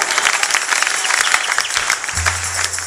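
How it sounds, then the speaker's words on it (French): A crowd at a live event in Lubumbashi breaks into loud applause and cheering, rapid dense clapping with bursts of sharper claps, then a low steady hum enters near the end. "Pendant qu'il avance, vos acclamations."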